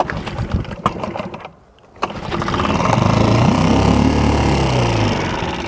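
Gas outboard boat engine idling steadily in neutral after a restart, with the throttle opened slightly; a loud, continuous close-up drone follows a few seconds of earlier clatter and a brief pause.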